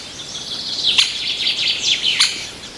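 Birds calling in the Ugandan savannah, a steady stream of high chirps and whistled notes with a couple of sharper calls standing out, fairly close and clear over quiet background.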